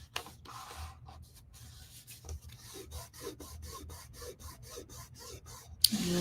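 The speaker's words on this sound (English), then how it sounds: "And just kind of press down and rub." Paper being rubbed by hand to press it flat onto a craft piece, giving a steady series of rhythmic, close dry rasping strokes at moderate volume with no talk over them.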